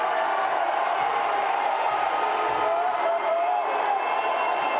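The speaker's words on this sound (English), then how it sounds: "The baseball team and this crowd going crazy." Crowd at a college basketball playoff game between Cochise College and Arizona Western College, roaring in a steady, loud wash of cheering that fills the whole stretch, with no breaks or single voices standing out.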